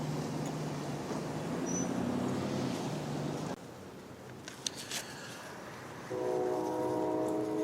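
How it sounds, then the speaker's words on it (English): CSX M512 freight train heading northbound on the Henderson subdivision at Madisonville, Kentucky: a steady rumble of rolling railcars with clanks and squeals, then a short horn-like tone near the end, heard from trackside. "CSX M512 northbound on the CSX Henderson subdivision at Madisonville"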